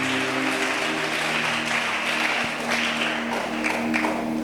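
A church congregation applauds to acclaim God during a pastor's testimony service, a steady, loud wash of clapping that carries evenly throughout, with a sustained low tone under it.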